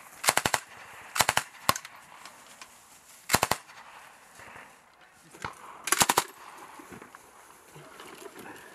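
An M240B machine gun firing live rounds during an Army infantry brigade training exercise: four or five short, sharp bursts spaced a second or two apart, loud against a quiet outdoor background with faint voices.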